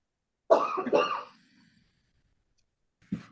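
Two quick coughs close by, followed by silence and a short breathy sound near the end.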